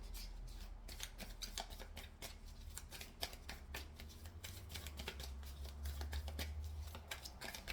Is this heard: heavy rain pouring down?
no